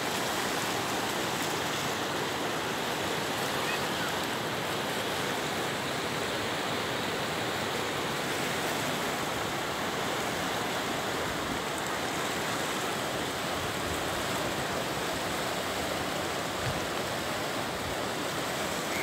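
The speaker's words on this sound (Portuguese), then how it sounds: "corredeira aqui bem forte" Strong rapids on the flooded Itacambiraçu river in Grão Mogol, a constant broad rushing roar of turbulent water, loud and unbroken, with no voices.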